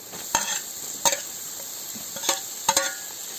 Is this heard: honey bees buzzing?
no